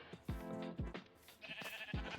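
Minecraft sheep bleat repeatedly, four or five short wavering bleats in quick succession, close and clear with no talking.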